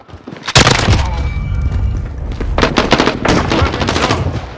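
Automatic gunfire from an HK G36C rifle in the shooter game Modern Warfare, loud and close, with sustained bursts of rapid shots and booming impacts across the whole stretch.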